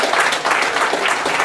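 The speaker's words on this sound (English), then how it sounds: "round of applause again for Mr. Preston Ginseng King." An audience at a Bing Han promotional event in December 2018 applauds a guest, with dense, steady clapping filling the whole moment at close, loud level and no talk over it.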